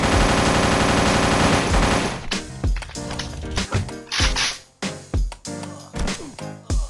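Loud rapid gunfire in a Minecraft guns mod: a dense continuous burst of automatic fire opens the clip, then gives way to separate sharp bangs and short bursts at irregular intervals, close and with no talk.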